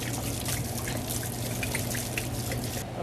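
About four liters of wine pour into a pot of mirepoix and fennel, a steady continuous splashing gush that holds at even loudness throughout with no talking.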